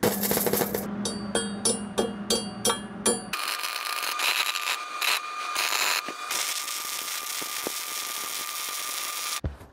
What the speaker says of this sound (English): I'm gonna tack the tip, and then I'm gonna tap it back to get it nice and flush.